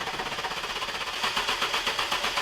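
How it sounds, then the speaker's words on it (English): A Mini One R50/R52 Tritec engine cranking over just after a timing chain replacement, with a rapid, steady mechanical churn that grows louder and more pulsing partway through, heard close and alone. "Then you can hear the engine change tone, and we've got plenty of black oil coming out."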